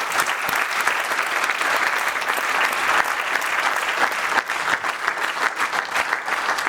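Audience applause after a piano-accompanied music performance by a young performer, a dense, steady clapping that stays loud and continuous throughout with no talk over it.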